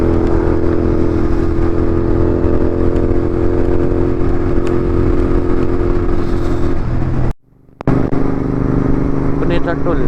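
A motorcycle cruises at speed on an open highway near Pune in cold weather, its engine a steady, close drone mixed with wind rush. The sound drops out briefly before continuing.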